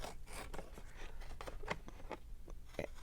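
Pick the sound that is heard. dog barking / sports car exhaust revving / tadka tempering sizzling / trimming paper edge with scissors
trimming paper edge with scissors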